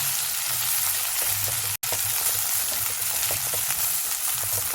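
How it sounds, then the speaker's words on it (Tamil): Ground pirandai paste sautés over low heat in oil with mustard seeds, giving a dense, even sizzle with faint crackles and a low hum beneath; a brief dropout interrupts it partway, and no one speaks. "அடுப்பை சிம்மில் வச்சுட்டு ஒரு 2-3 நிமிஷம் இதை நல்லா வதக்கணும்"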